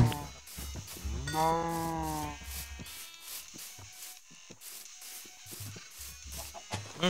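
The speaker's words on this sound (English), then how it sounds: "Got some cows swimming in the big fountain." Cows low in a video game while the animals swim about in a large fountain. One long, clear moo is heard near the start, and fainter lowing and game noises follow.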